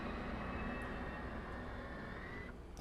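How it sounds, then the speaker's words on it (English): An F/A-18 Hornet's APU spins up in a flight simulator game, a steady whining turbine drone with a broad rushing roar that holds constant and fairly loud throughout, with no talk over it. "While I am doing that, I'm also turning on my APU."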